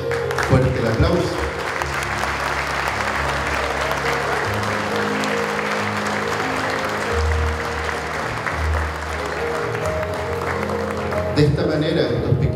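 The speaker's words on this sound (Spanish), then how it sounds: "Fuerte el aplauso." Sustained applause from a large crowd at a school graduation ceremony for prekindergarten students, steady and even for several seconds, with a low hum and some voices underneath.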